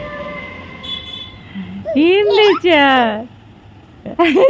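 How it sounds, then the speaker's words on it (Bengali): A steady low rumble with a faint whine, like a train going by at a distance, runs beneath a voice speaking loudly and animatedly. "ওই যেখানে ট্রেন যাচ্ছে"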